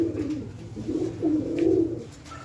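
A domestic pigeon, a show bird with red markings and white eyes, coos close by in a few soft, rolling phrases, with low background rumble and no talking.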